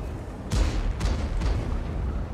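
Cannon fire from a Soviet Object 777 II tier 9 heavy tank in a tank video game: several heavy booming shots spaced about half a second apart over a rumbling low background, with no talking.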